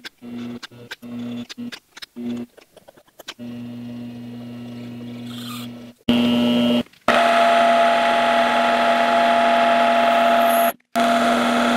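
A mini lathe turns plastic stock, which clogs up with chips as it cuts. It gives a steady motor hum with a tonal whine, broken by short stops and restarts, and a louder, brighter cutting stretch toward the end.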